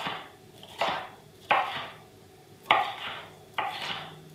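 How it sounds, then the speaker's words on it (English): A knife chops a pepper on a cutting board in a home kitchen, four firm, evenly spaced thuds, each with a short crisp slice, close and clear over a faint background hum. "As soon as we chop this pepper up, we're gonna add it right to the onions"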